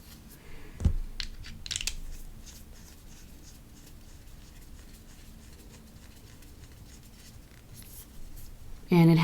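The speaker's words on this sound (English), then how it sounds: "I find that it writes very juicy" A broad-nib fountain pen scratches across paper in short, faint strokes, with quiet rustling between them and a brief louder knock at the end.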